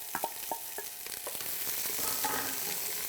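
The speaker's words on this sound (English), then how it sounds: "We're going to start out with some hot oil here, and we're going to add about 2 cups or so of chopped diced onions" About two cups of diced onions dropped into hot oil in a pan, a few sharp clatters as they land, then a steady, close hiss of frying that fills the rest, with no voices.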